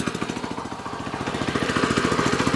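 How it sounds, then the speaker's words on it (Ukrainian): A walk-behind tractor's small engine, just kick-started, runs alone and close, with a steady rapid firing pulse that grows slightly stronger. "Беру кікстартер і запускаю і заслоночку назад."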